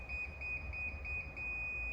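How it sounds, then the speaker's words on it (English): Anti-theft alarm on a Naxeon electric motorcycle: a faint, thin electronic tone pulsing in rapid regular beeps over a low background rumble, very quiet throughout. "the comically quiet alarm goes off"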